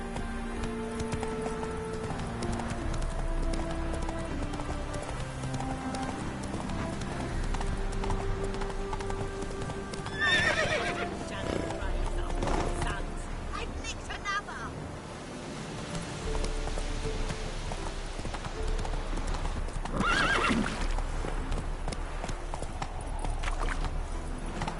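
In The Witcher 3, the horse Roach gallops in steady rhythmic hoofbeats that carry through the whole stretch, with a couple of brief neighs and whinnies mixed in against a constant rain-like ambience.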